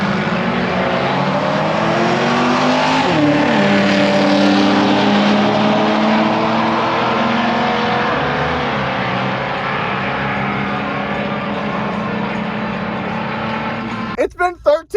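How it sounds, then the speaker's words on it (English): A Volvo launches hard down a drag strip in sport mode and shifts through its gears on its own, a loud sustained engine roar with rising pitch sweeps and dips at each shift, continuing for most of the run before abrupt bursts at the end. "I'm gonna shove it into sport mode, I'm gonna let it launch, and I'm gonna let the car shift itself"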